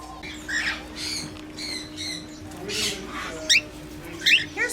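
Baby cockatiels squawk in a bird shop, giving a run of harsh, repeated calls at moderate loudness, with a few sharper, louder squawks near the end over a steady low hum.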